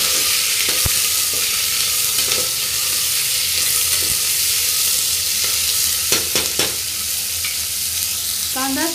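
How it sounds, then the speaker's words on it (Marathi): Chopped onion fries in a pan with a loud, continuous sizzle, broken by occasional scraping and clinks of a spatula close by, no talking. "आता हा चिरलेला कांदा घालूया। व्यवस्थित परतून घेऊया।"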